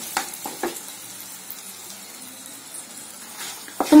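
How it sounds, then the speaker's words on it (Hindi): Ground spices roast in a pan over a low flame for a stuffed chana dal puri filling, giving a faint, steady sizzling hiss with a few soft clicks and scrapes of stirring nearby. "तो मसालों को हमने लो फ्लेम पर भून लिया है।"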